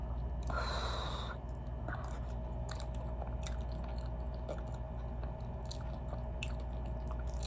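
Someone chews sweet potato from a rosé braised chicken dish close to the microphone, with soft, moist crunching and bites repeating irregularly in a quiet room.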